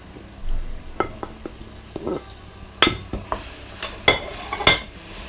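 Chopped tomatoes and peppers tipped into a pan of chicken sauté, with a string of sharp clattering knocks and scrapes of utensil against metal over a soft background sizzle, fairly close and with no talking.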